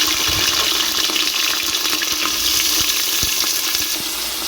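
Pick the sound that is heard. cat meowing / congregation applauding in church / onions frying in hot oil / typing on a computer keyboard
onions frying in hot oil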